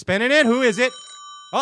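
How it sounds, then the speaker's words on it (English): A telephone rings during a Bassmaster Elite anglers' live show, a steady electronic tone that sounds once under loud talk and laughter, then another brief ring follows as a voice speaks. "that's a phone"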